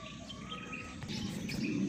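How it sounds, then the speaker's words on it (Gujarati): Pigeons, including a young white one, coo and chirp softly in a brief, faint stretch of low murmuring bird calls with light background noise. "આ મિત્રો કબૂતર છે"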